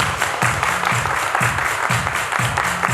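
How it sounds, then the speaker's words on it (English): Guests clap along in rhythm at a wedding dance, regular claps about twice a second mixed with upbeat line-dance music. "Everybody clap your hands."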